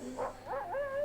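A wolf in the video game 7 Days To Die gives a short, wavering howl with rising and falling pitch, brief and moderately close, over a faint background hum.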